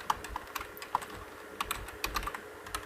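Close, quiet keystrokes on a computer keyboard as C program code is typed, irregular taps and clicks in short bursts, no voices.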